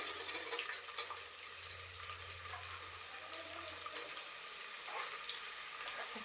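Onion tipped into hot oil with bloomed whole spices and bay leaves in a pressure cooker for chicken pulao, giving a steady, even hiss of sizzling that runs unbroken and fairly close throughout.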